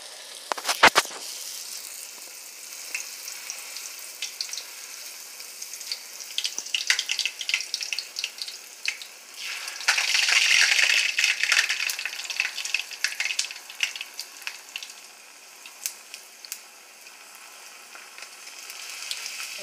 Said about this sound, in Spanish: Con el aceite caliente uno las echa a freír.